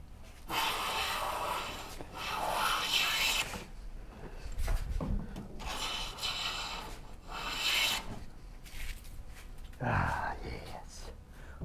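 A hand plane cutting wood shavings on a Shaker Enfield cabinet, making four close, hissing, rasping full strokes with brief pauses between them, fairly quiet.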